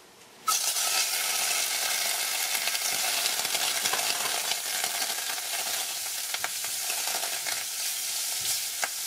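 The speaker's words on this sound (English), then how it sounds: "So let's just melt this butter right here." Butter melts and sizzles steadily in a pot on the stove as gravy is started, a close, constant hissing crackle that begins abruptly and continues throughout.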